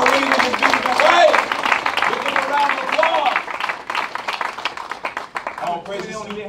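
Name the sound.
audience applause for a donation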